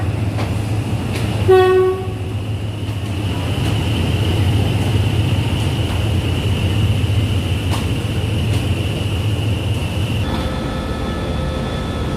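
A JNR Class CX50 Pacific steam locomotive, No. 850, pulls into a station platform with one short whistle blast, then a long steady high squeal over a deep rolling rumble, close and loud.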